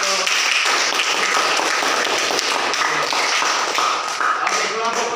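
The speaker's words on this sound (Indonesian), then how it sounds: "kita berikan tepuk tangan untuk" A classroom of students claps for a student group, a dense burst of close, continuous clapping mixed with some voices.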